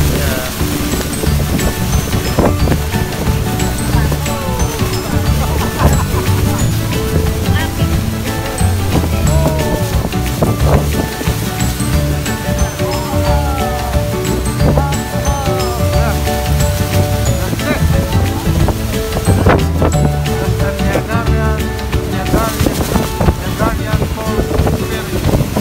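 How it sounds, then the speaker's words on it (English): Strong wind buffets the microphone on a tour boat near Niagara Falls in heavy rain, with a constant roar and gusty rumble beneath scattered voices talking throughout. "it was so windy and it was raining heavily at this point"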